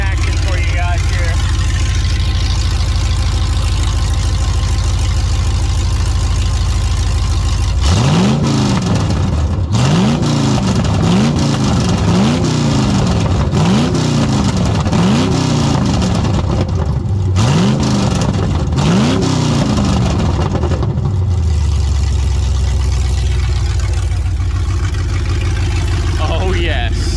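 Engine of a car nicknamed Bruce, freshly restarted, idling roughly and then revved in a series of rising and falling pulls, loud and close, before settling back to a steady rumble.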